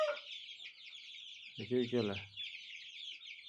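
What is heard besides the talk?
chicks and chickens clucking, chicks for sale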